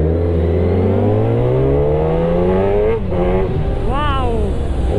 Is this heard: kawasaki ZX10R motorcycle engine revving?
yes